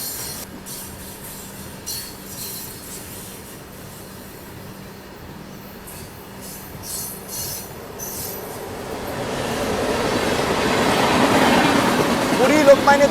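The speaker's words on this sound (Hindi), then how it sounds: "पैसेंजर ट्रेन आ रही है," A passenger train passes on Indian railway track, its rumble and rolling wheel noise building steadily and growing louder as it draws near, with wheel squeal and clicking over the rails.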